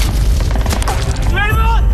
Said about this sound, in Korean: 그리고 정확하게 맞춰 폭파시키는 알리. 이 폭발음을 들은 선두부대가 황급히 지원에 나서고